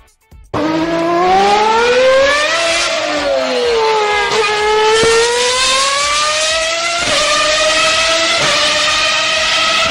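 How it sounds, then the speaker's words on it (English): A high-revving race car engine screams loudly throughout, pitch climbing and dropping as it shifts gears, with no talking. "Race car."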